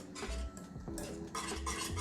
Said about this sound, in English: Stir continuously so that it doesn't burn